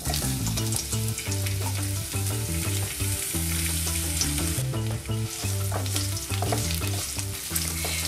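Red onion going into seeds frying in hot oil for an ayurvedic saag aloo, a steady close sizzle with stirring clatter throughout, under a loud harmonic music bed.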